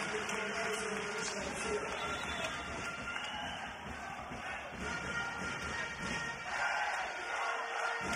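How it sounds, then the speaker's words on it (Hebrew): Basketball arena crowd applauding and cheering as a player heads to the bench, a full stand and an excited bench making a steady, loud wash of clapping and shouting throughout. "מקבל כאן תשואות מיציע שלם ומספסל מתלהב ובצדק"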